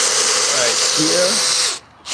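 Power drill driving screws into wooden coffee table legs, a loud high-pitched whirring motor with rising and falling tones as the screw bites, stopping briefly near the end before starting again.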